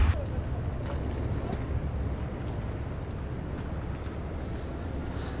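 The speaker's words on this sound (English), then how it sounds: "It's a little windy today for a change." Strong wind gusts buffet the microphone at Gdańsk Główny railway station, a constant low roar with rushing noise throughout, no voices.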